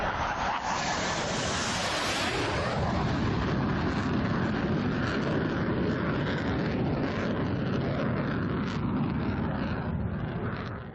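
A fighter jet roars close overhead past a soldier, the broadband jet noise sweeping in with a descending whoosh and then staying loud and sustained as it passes.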